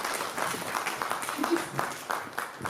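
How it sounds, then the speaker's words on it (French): Audience applause at a women's rights day celebration held by a businesswomen's association, a steady wash of clapping across the room with a voice speaking over it. "Merci beaucoup sur vos applaudissements"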